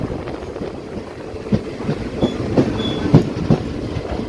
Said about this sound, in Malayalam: ട്രെയിൻ അങ്ങനെ പാലക്കാട് ജംഗ്ഷൻ റെയിൽവേ സ്റ്റേഷനിലേക്ക് എത്തിക്കൊണ്ടിരിക്കുകയാണ്